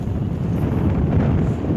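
Wind gusts steadily over a lake at a fishing camp, a loud, continuous low buffeting rush close to the microphone with no voices.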